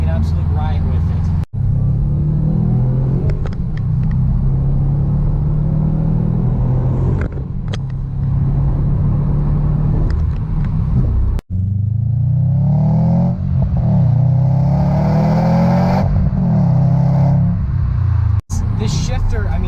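A 2018 Subaru STI heard from inside while driving, with loud continuous engine rumble and exhaust drone rising and falling through revs and shifts, brief cutouts, and someone talking over it.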